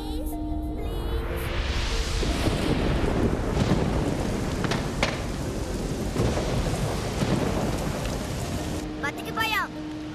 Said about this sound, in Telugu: వర్షం వల్ల మంటలు ఆరిపోతాయి.